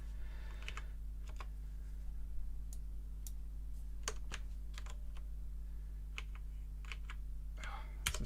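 Keys on a computer keyboard are typed in quick irregular bursts of clicks during a programming lecture, fairly faint over a steady electrical hum.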